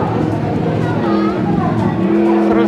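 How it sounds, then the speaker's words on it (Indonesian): A small trail motorbike on a children's fair ride at PRJ 2022 hums and buzzes nearby amid a noisy, crowded setting, while people talk over it throughout. "Motor trail."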